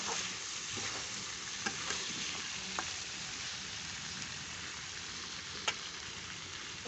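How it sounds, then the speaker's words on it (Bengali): Broth poured into a pan of chicken and potato curry: a steady, soft frying hiss and sizzle with a few faint spoon clicks and no talk. "এখন আমি এটাতে ঝোল দিয়ে দেবো"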